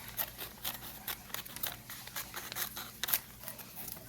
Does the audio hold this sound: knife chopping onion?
no